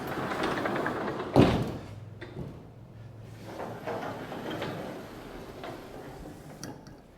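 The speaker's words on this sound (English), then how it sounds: "if we open these up, we have the big sliding doors" Big sliding doors on a car workshop are hauled open, with a loud rumbling clatter near the start followed by quieter rolling, knocking and scraping as the doors travel.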